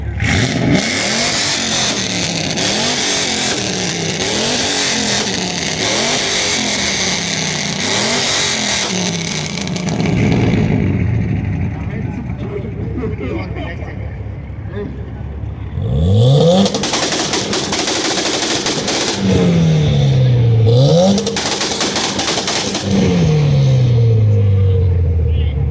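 Cars with two-step launch control rev hard at a car meet: loud, sustained, crackling engine roars with repeated rising and falling pitch sweeps, with voices in the background.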